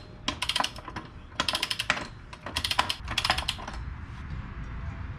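A torque wrench ratchets in rapid clicking bursts while tightening a motorcycle's chain axle nut, close and crisp, in three or four quick clusters over a steady low background rumble.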